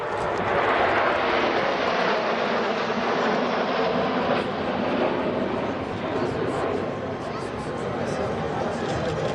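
Patrouille de France jets flying in formation produce a steady, broad roar that holds fairly constant throughout, moderately distant, with no clear talk over it.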